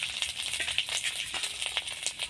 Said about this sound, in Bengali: তেলটা গরম হয়ে গেছে এবার ছাড়ানো গেঁড়িগুলো এর মধ্যে দিয়ে দেবো